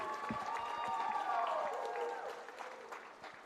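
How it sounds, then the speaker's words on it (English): Gym applause at a college volleyball senior night, a soft, steady patter of clapping from the crowd under an announcer's amplified voice. "How about a big round of applause?"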